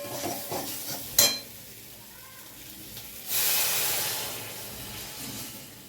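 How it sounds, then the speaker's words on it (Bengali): Water hits fried spice paste, already cooked until the oil separates, in a pan for a Bengali rohu fish curry. A sharp metallic clink comes first, then a loud, sustained hissing sizzle that slowly fades. "মশলা কষানো হয়ে গেছে, তেল ছেড়ে দিয়েছে, এখন জল দিয়ে দিচ্ছি।"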